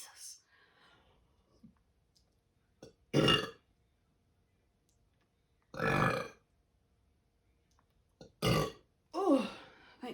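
Several loud, drawn-out burps from a person, spaced apart across the stretch with quiet gaps and faint breathing between them.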